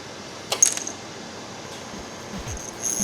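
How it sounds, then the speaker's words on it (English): A small steel screw rattles against an electromagnet core as the magnet pulls it in: faint, brief metallic clicks and ticks in two short bursts over a quiet hum. "I don't know if you can hear it rattling, but that's it trying to pull it in."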